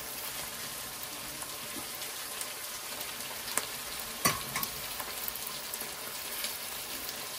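Meat and onions fry in a pot for a Neapolitan ragù, a continuous close sizzle with scraping and stirring knocks, one sharper clank midway.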